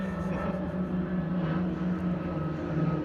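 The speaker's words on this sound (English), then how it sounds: "There sure are a lot of airplanes today" An airplane flies overhead above a garden, a faint, steady low drone with a soft hum that neither rises nor fades much, and no talking.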